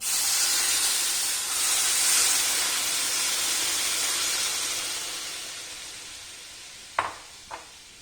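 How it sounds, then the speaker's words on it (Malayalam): Milk being poured into a pan of roasted flattened rice (aval) for payasam, a loud steady steaming hiss that slowly fades, ending with two short clanks near the end. "അപ്പൊ നമുക്കിനി ഇതിലേക്ക് പാൽ ഒഴിച്ചു കൊടുക്കാം."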